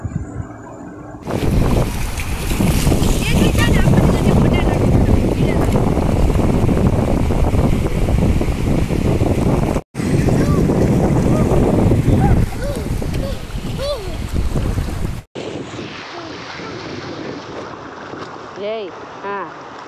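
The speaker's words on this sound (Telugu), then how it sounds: "కెరటాలు వస్తూ ఉంటున్నాయి, అలలు వస్తూ ఉన్నాయి." Ocean waves washing onto a beach at Sohar, Oman, as a loud, steady broadband rush mixed with wind noise that cuts out briefly twice, with faint voices and children near the end.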